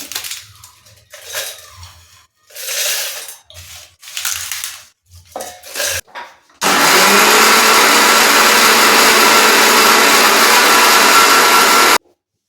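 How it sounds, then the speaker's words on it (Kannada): A mixer grinder jar powders cooled, roasted garam masala (biryani) spices, starting abruptly as a loud, steady, continuous whirring grind that runs for about five seconds and stops sharply, after a stretch of quieter handling sounds. "ಇದೆಲ್ಲ ತಣ್ಣಗಾದ್ಮೇಲೆ ನಾವು ಮಿಕ್ಸಿ ಜಾರಲ್ಲಿ ಪುಡಿ ಮಾಡ್ಕೋಬೇಕು"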